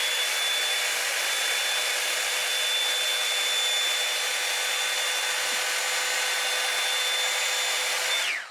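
A Revlon Air Straight styler runs on its air and hot plate setting, a steady loud whoosh of blown air that holds evenly for about eight seconds, close by and alone, before cutting off at the end.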